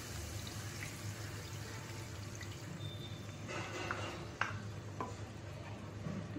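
Water poured into a pan of frying spice paste for a fish curry, a soft steady wash of pouring and stirring with a faint sizzle and a few clinks, close and fairly quiet.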